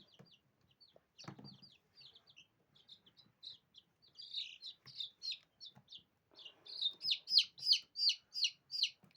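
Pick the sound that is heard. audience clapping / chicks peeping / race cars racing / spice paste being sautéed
chicks peeping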